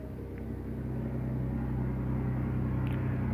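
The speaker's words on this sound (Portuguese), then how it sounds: "Caminhão passando aqui." A truck rolls past outside, a low steady rumble that stays faint and distant throughout, with no voices.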